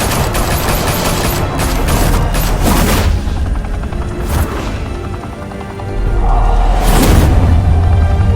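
Loud bursts of gunfire rattle in the Batman Telltale game, rapid automatic volleys stacked together at close range, with a brief lull before another heavy barrage.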